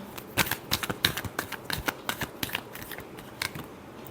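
Tarot cards being shuffled by hand, a rapid scatter of crisp papery flicks and snaps, close and fairly quiet, with no talk over them.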